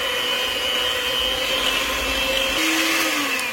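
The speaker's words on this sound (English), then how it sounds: "More hand mixing." Electric hand mixer whirring steadily through cookie dough in a kitchen bowl, a loud continuous motor whine that holds its pitch and then shifts slightly near the end.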